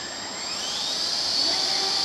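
A small Gaui 100 Pro RC helicopter spins up with a high-pitched motor whine that rises steadily in pitch and loudness, heard fairly close.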